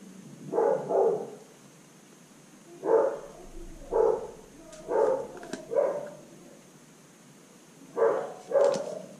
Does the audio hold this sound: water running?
no